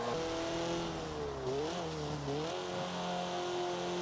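A road-legal Subaru Impreza in a racing video game, its engine droning steadily with pitch dipping and rising through gear changes and braking, a continuous mechanical whine without talk.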